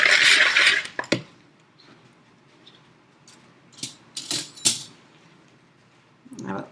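A whisk clinks and scrapes through a bath bomb mixture in a bowl, with a burst of brisk stirring at the start and a few short scraping strokes later, near and fairly quiet.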